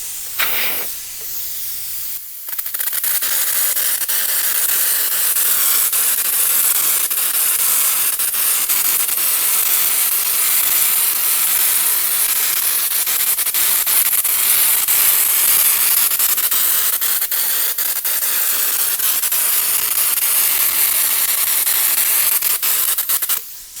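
A compressor-fed hopper sprayer blasts a fine orange peel drywall mud texture onto a wall, producing a steady, loud hiss of air and spray that runs almost unbroken for over twenty seconds after a brief start.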